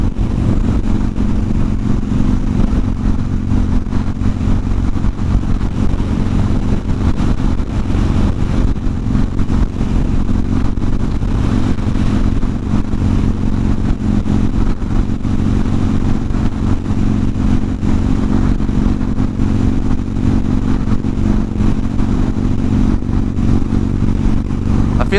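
A 2015 Harley-Davidson Dyna Street Bob motorcycle rides along with a steady, loud low engine rumble and road noise that holds constant throughout, no voices over it.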